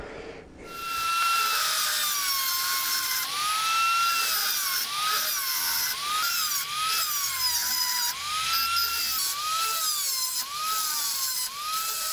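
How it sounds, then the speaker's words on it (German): A rotary tool mills into a weld seam on a Simson SR2 fuel tank, a close, high whining grind that swoops up and down in pitch with repeated passes across the metal, steady throughout and without speech. "ruhig ein kleines Stück reinfräse damit die Schmelze da ordentlich reinlaufen kann"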